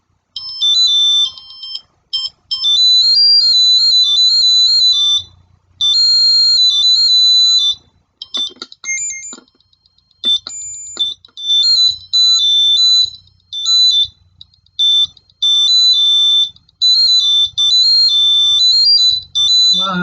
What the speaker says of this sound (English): It's like the Theremin, but digitally.